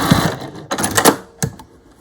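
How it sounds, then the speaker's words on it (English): Short mechanical clicks and whirs from a sewing machine as the pedal trims the thread while sewing bunting flags, three brief bursts separated by pauses, close and clear. "hit the pedal there and cut the thread"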